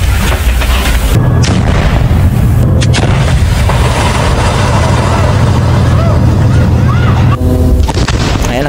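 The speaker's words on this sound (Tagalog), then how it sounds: "kaya makikita nyo may mga boom din sa katabi" Explosions blasting through Gaza tunnels, with deep booms and a sustained heavy rumble filling the clip, loud and continuous, with a few sharper bursts rising above the roar.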